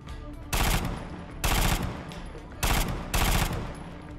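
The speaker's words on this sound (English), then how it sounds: "It's a Gauss gun." A Gauss gun fires in Fallout 4 with the America Rising 2 mod, four loud, sharp discharges spaced about a second apart, each a heavy burst with a short decay, alone above low background game ambience.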